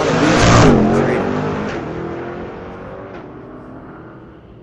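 A 1968 Gran Torino and a 2025 Corvette launch down a drag strip at a street-legal night at Mission Raceway Park, a loud revving roar peaking early then fading as the cars pull away into the distance.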